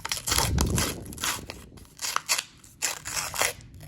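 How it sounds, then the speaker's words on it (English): A paper-wrapped roll of coins being torn open by hand, with close crinkling and tearing of paper, bursts of crushing rustle and faint clinks, irregular and fairly loud. "So let's get into this roll."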